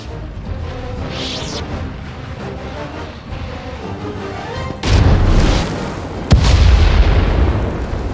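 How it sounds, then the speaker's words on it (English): Heavy weapon discharging in a sci-fi starship combat game set on Iokath, Inquisitor storyline: a low rumbling background gives way to a loud booming blast, then a second sharp crack and sustained roaring energy, with no talking. "Prepare to fire weapon on my command."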